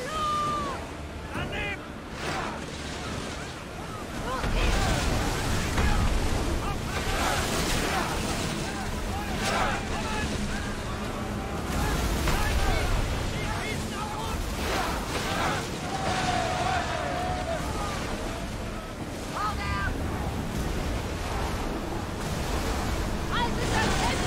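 Oars rowing a ship through waves in Assassin's Creed Odyssey, heard as steady broadband rushing water and surf that keeps going with no break.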